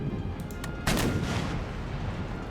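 Cannon fire from warships in a naval battle in the strategy game Empire: Total War: a few sharp booms near the start, then one heavier broad blast about a second in, trailing off into a low rumble with no speech.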